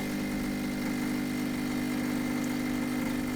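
An espresso machine runs a coffee shot, giving a constant, loud pump hum with a strong steady drone and no breaks, no voices over it.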